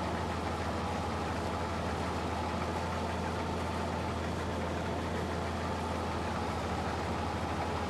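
A combine harvester's engine drones steadily while cutting wheat in Farming Simulator 22, a constant low mechanical hum with no break and no voices.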